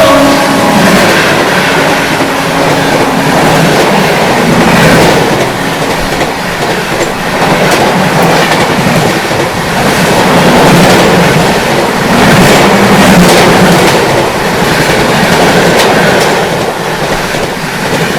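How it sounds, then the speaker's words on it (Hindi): Pune Supaul Express passes close by at speed, a loud continuous rumble of wheels on rail with rhythmic clickety-clack and occasional squeal, sustained for the whole stretch without speech. "ये जा रही है पुणे सुपौल और वहाँ से आ रही है महानगरी एक्सप्रेस"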